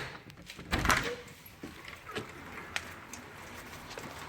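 A door opens with a brief clatter and thump, followed by quieter shuffling and faint outdoor background noise.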